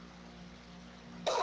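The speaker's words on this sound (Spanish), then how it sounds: "esa es la tos que tengo" A single cough from a person with bronchitis who smokes, bursting out near and fairly loud at the end after a stretch of quiet room hum.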